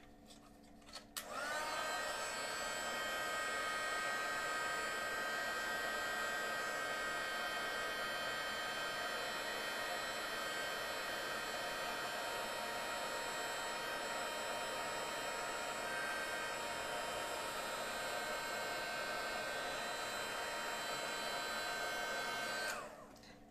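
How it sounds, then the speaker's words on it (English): A heat gun blows steadily while setting white embossing powder on a card, a loud, constant whirring hiss that switches on, runs unbroken for about twenty seconds, then cuts off, with no talk. "taking my white embossing powder and then heat set this again"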